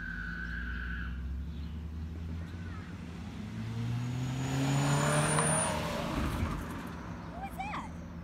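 A car approaches and passes by outdoors, its engine swelling to a peak at mid-clip and then fading away over a quiet background with faint bird chirps.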